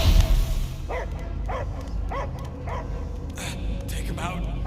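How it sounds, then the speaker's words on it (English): In the Guardians of the Galaxy video game, a dog gives a series of evenly spaced barks, about five in a row, over a low ambient game drone. No one talks. "I hear only barking."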